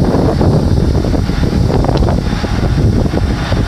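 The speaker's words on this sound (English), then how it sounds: "All I know is windy out here. Been fighting the wind all day." Strong wind roars and buffets across the microphone outdoors beside a truck, a loud, continuous rumbling gust with no speech.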